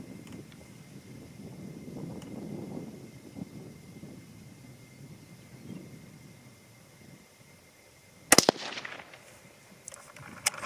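A single sharp 22 ARC rifle shot cracks out outdoors after several seconds of quiet wind and low rumble, followed by a brief ringing tail and a few faint clicks.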